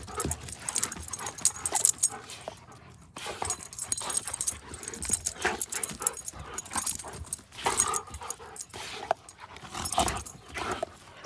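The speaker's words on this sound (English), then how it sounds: "For those that don't own dogs, they're having fun" Two dogs play outdoors, snarling and growling in rough bursts with panting and scuffling, fairly close amid a busy, noisy background.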